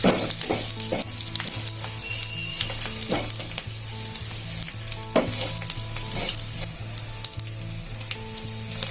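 Garlic and a quarter spoon of turmeric sizzle steadily in hot oil as a tempering for curry leaf chutney, a continuous loud crackle with occasional stirring clinks and no talk.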